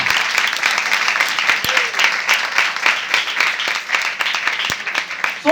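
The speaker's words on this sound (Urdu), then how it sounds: "سو آئیں ہم اپنے زندہ خدا کے لیے زوردار تالیاں بجائیں" Loud applause from a church congregation on Palm Sunday, sustained dense clapping with a few sharper individual claps, filling the space throughout.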